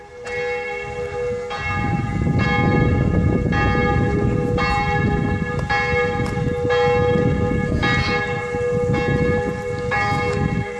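Church bells ring loudly right next to a house, peal after peal in a steady overlapping rhythm with rich ringing overtones, close and dominant throughout.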